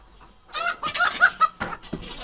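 Chickens cluck and squawk close by in a burst of agitated calls, loud and irregular, while a chicken is cleaned abroad.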